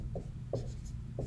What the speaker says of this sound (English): I'll just write